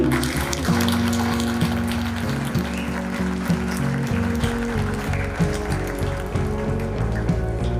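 Audience applause at the Shri Shankar Shambhu Memorial Awards ceremony, a steady patter of clapping that runs throughout under sustained music.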